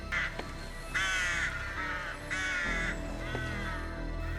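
Crows caw in a snowy March setting, several harsh calls in two or three bursts, fairly close and clear against a quiet outdoor background with no talking.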